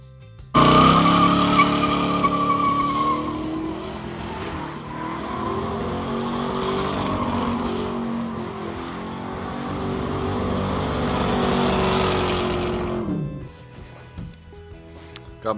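Car with a welded differential launching in a drag race, engine roaring hard from a sudden start and climbing through sustained high revs for about twelve seconds, loud and close, then cutting off abruptly.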